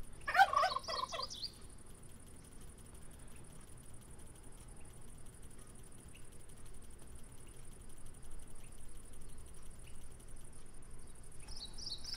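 Turkey gobble from the Minecraft video game, a short burst of rapid gobbling near the start, with a second faint call at the very end over a steady low background hum.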